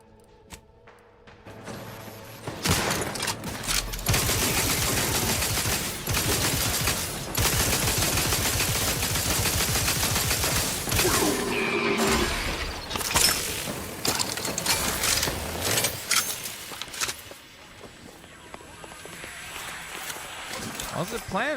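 Automatic gunfire in The Outer Worlds 2, bursts of rapid shots with mechanical clatter running loud and dense for most of the stretch, under a busy mix of other game noise.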